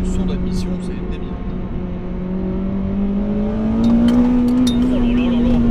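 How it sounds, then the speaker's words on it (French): Intake roar of a Honda Integra Type R DC5 Mugen accelerating, a steady, rising engine drone heard from inside the car that climbs in pitch and grows louder, with a person talking over it. "ce son d'admission"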